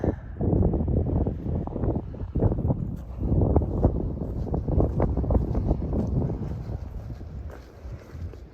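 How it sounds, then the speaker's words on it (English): Wind blows steadily on a mountain summit near Iron Mountain, a loud continuous rumble buffeting the microphone with gusty surges throughout. "Already the wind is calmer just this far"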